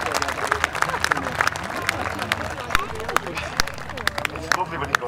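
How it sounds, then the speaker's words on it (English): An audience at a bird of prey display at the Poynton Show claps after a falcon lands, scattered hand claps over crowd chatter and talk, moderately loud and continuous. "There we go, give it a clap"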